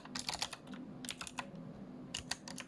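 Rapid keystrokes on a computer keyboard as a folder name is typed, coming in two quick bursts of close, crisp clicks separated by a brief pause, with no talking.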